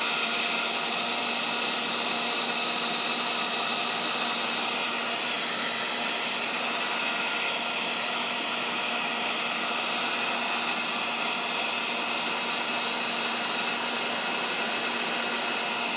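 A hot air tool set to high heat roars steadily while melting material during a Gilbert long-drop octagon clock rebuild, a constant close blowing hiss that continues without a break for the whole stretch.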